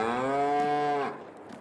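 A Holstein cow in Farming Simulator 22 gives one long, loud, close moo that fades into quiet game ambience.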